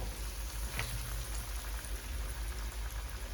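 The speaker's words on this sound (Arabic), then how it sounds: "معايا كده طاسه فيها زيت سخنه، تمام، هنزل بقى كده على طول بالدبابيس بتاعتي بالشكل ده" Chicken drumsticks coated in flour are lowered into a pan of hot oil and fry with a steady, close crackling sizzle, alone and without talk.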